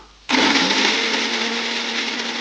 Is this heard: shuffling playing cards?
no